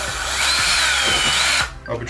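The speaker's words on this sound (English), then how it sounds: "it's always better to drill a small pilot hole" A small drill bit boring a pilot hole while fitting a partition in a Ford Transit high-roof van, a loud close motor whine lasting about a second and a half before stopping abruptly, then quieter handling noise.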